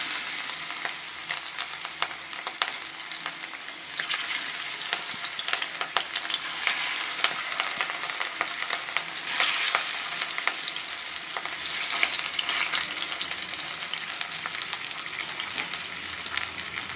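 Rohu fish sizzles steadily in hot oil in a pan, a dense continuous crackle with occasional sharper pops and stirring scrapes, close and loud with no talking.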